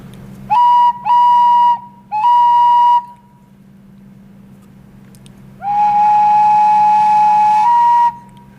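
Clear, breathy Native American flute tones, three short blown notes in a row, then a pause and one long sustained note, close and loud.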